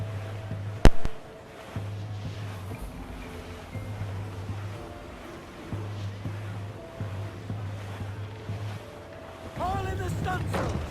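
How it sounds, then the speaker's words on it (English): Calm ocean waves in Assassin's Creed IV Black Flag roll in a continuous wash, with wind and a low droning hum beneath and voices talking over the sea. "I'm gonna leave you to the calming waves"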